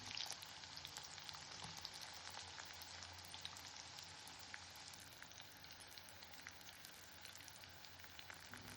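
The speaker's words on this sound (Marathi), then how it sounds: "कांदा हलकासा परतून घ्यायचा आहे" Onion sautéing in a pan for a soybean pulao, giving a steady, even sizzle and light crackle of frying throughout, fairly faint and with no talking.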